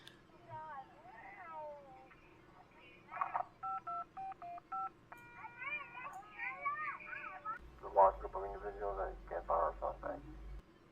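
Keypad tones from a phone in a 911 operator video game, a quick run of distinct beeps in short bursts, heard over a noisy background with a voice and other chatter.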